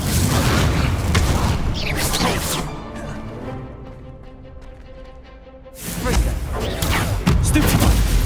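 Incendio fire spell cast in Hogwarts Legacy: loud, dense crackling blasts and booms fill the start and end, with a quieter ringing lull between.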